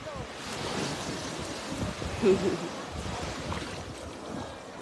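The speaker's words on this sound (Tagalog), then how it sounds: "Kalma ang tubig. Kalma ang wave." Gentle sea waves wash in a soft, steady rush, with some wind noise and faint background voices.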